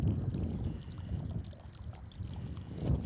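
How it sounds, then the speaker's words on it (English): Clean filtered water trickles from the outlet of a Katadyn Hiker Pro hand-pump water filter, a steady soft low splashing stream that runs continuously without any talk. "this system is actually going to filter all of that out so that we just get clean water coming out of the end"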